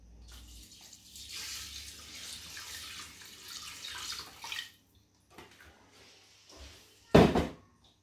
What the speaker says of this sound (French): Et j'ajoute l'eau.